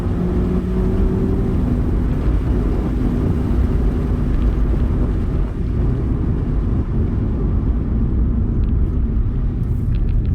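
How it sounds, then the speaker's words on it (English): A 2023 Mazda MX-5 GT RS engine revs out close by, its tone climbing briefly over a heavy, steady rumble of road and exhaust noise. "Listen to that rev out."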